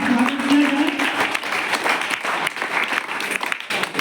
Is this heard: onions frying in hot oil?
no